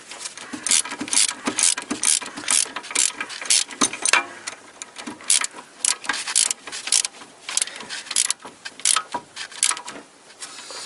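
Rapid clicking of a ratchet or torque wrench tightening a front strut assembly bolt on a 1992 Toyota Corolla, steady bursts of sharp metallic ticks close up, with no talking.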